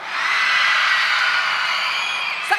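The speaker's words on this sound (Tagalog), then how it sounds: "Hiyaw kayo dyan." A large crowd at a government program launch event erupts in sustained loud shouting, screaming and cheering on cue, a dense roar that holds steady for over two seconds.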